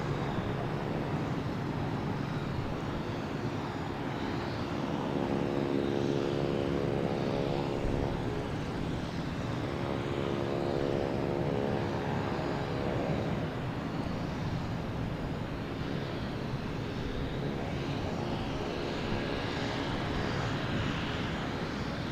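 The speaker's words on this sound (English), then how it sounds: "So we have the Southwest there heading to St. Louis, 737." Southwest Boeing 737 jet departing Boston Logan Airport for St. Louis, a sustained, heavy engine roar that swells gently and stays loud and continuous, with no talking.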